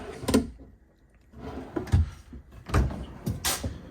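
Several short sliding thumps and scrapes close by from pull-out drawers opening and closing in the rear kitchen of a 2022 Dutchmen Yukon 399ML fifth-wheel RV, spaced unevenly over a few seconds.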